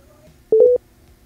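Telephone keypad tones beep in a quick run of about three short, clear, evenly spaced notes while a call is being placed, over a faint background.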